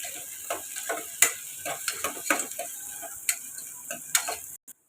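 Onions with curry leaves frying in a pressure cooker while a spoon scrapes and taps the metal in an irregular rhythm over a soft sizzle, close and moderately quiet.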